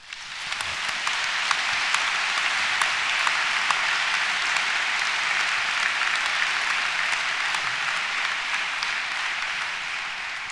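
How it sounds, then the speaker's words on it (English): A large graduation audience applauds in a dense, steady wave of clapping that fills a hall and holds loud and even throughout, with no voices over it. "please give yourself another massive round of applause"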